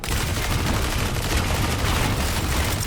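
Dense, continuous gunfire from a heavy weapon in the Cyberpunk 2077 video game, a loud, relentless barrage of rapid shots with no pauses, close and unbroken.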